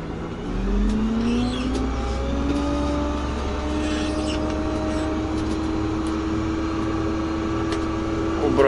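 A tractor engine, either an MTZ or a Kirovets, idles with a steady low rumble and revs up and settles again, close by and fairly loud.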